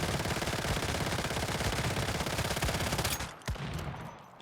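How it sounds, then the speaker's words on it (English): Sustained rapid automatic fire from the Little Jaws gun in the survival shooter Once Human, a dense, loud, even rattle of shots that stops abruptly after about three seconds, followed by a few faint clicks. "when I shoot this mag"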